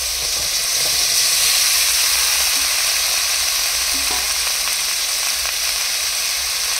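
Malabar spinach and potatoes sauté with onion and garlic in a village kitchen, making a loud, continuous dense sizzle with faint scraping, close by and without talk.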